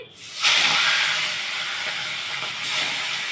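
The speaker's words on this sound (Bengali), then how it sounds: "কড়াই সর্ষের তেল দিয়ে দিয়েছি তেলটা হয়ে গেছে আমি মাছ দুটো ছেড়ে দিচ্ছি" A loud, steady sizzling hiss as two kathkoi fish fry in hot mustard oil, swelling as the fish go in and surging again near the end.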